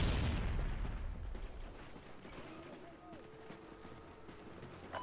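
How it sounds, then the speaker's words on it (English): A flashbang grenade goes off in Call of Duty Ghosts with a loud, broad burst at the very start, then decays into a ringing hum over busy game noise. "Random grenade flashbang."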